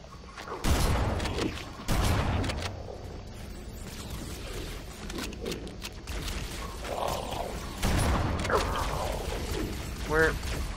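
Gunfire in the game Halo: Combat Evolved comes as bursts of sharp shots with a few louder impacts, mixed with game effects under ongoing casual conversation from players.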